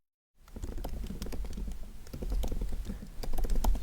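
Rapid keystrokes patter on a computer keyboard, close and steady, a dense run of clicks starting abruptly and continuing without talk.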